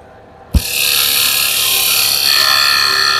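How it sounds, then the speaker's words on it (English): A 3/8 bowl gouge meets a spinning bowl on a wood lathe, starting with a sharp knock, then a loud, continuous scraping hiss as the cut carries on steadily. "I'm going to switch over to my other bowl gouge here. It's my little 3/8 bowl gouge."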